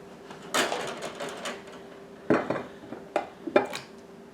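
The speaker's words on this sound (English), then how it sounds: "So I'm going to put my celery in my pot." Chopped celery tipped into a cooking pot for canning with tomatoes, heard as a few scattered clattering knocks and scrapes against the pot, moderately close with quiet gaps between them and no talking.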